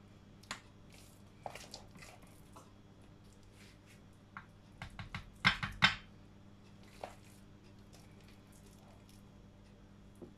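A spoon scoops mashed potato out of a saucepan, making soft, sparse wet squishes and light clicks, with a brief cluster of louder squelches near the middle. The rest is quiet and no one speaks.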